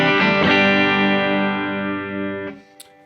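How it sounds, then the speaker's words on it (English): A single clean electric guitar chord rings out through Vox AC10 and Fender Blues Junior amps, struck loud and left to sustain and decay for about two seconds before being muted. "So firstly, here is the clean sound of my guitar."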